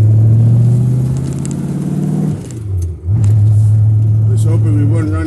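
A Chevrolet Corvette C4 with a new clutch master cylinder drives on an early-morning road, its engine a loud, steady drone. It dips briefly as the revs drop, then pulls strongly again, heard from inside the car.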